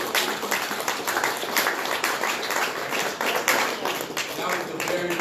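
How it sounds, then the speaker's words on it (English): Audience applause at a ward candidate's conversation and fundraiser event, a steady dense wash of clapping sustained throughout with voices mixed in underneath. "Y'all clapping up for you."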